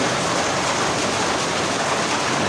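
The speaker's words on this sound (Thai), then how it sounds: "ไม่ได้ปลาครับฝนตกอยู่เนี่ย" Steady rain falls in a dense, even hiss from start to end, loud and close, with no voices over it.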